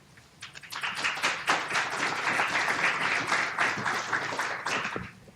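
An audience claps after a speaker is thanked at an energy subsidy reform event, a dense, steady burst of many hands lasting several seconds before tapering off near the end.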